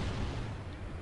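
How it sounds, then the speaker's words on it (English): An explosion booms in the Call of Duty: Ghosts video game, a short heavy low rumble that fades quickly. "We've got explosions going around everywhere."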